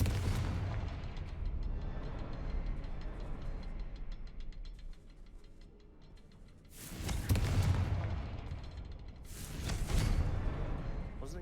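Confringo, an explosive spell in Hogwarts Legacy, fired off as a pair of sharp booming blasts with rumbling tails, separated by a softer crackling stretch.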